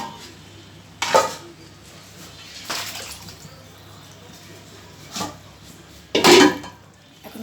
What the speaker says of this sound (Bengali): এখন কষানো মাংসটা ঢেলে দিলাম